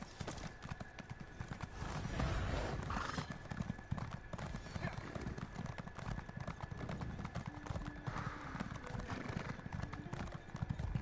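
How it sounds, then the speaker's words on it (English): Horse hooves clip-clop in a steady gallop rhythm in the video game Elder Scrolls Online, near and continuous, with a brief whinny and faint game sounds around it. "I got my horse."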